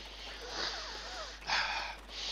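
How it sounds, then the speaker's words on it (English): Close, sharp nasal sniffs of Albus oil come in a few separate bursts, with a faint murmuring voice beneath them. "I'm sniffing Albus oil, which kind of lifts your head off"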